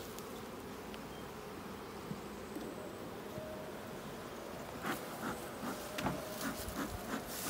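Stingless bees buzzing around a yard of hives on a honey bee farm in Jamaica, a steady low drone close by, with a few louder passes near the end.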